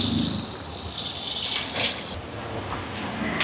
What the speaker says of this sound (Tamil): இதில் தேங்காய் பால் சேர்க்குறேன்.